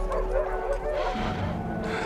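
Dogs barking in a dramatic Frankenstein film scene, a steady run of yips and bow-wow barks under a dense score and ambience, fairly close and continuous throughout.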